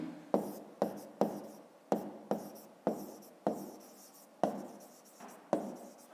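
A pen writes a maths answer by hand on paper, sharp scratchy strokes with distinct taps, about a dozen in an uneven rhythm, close and quiet with no talking.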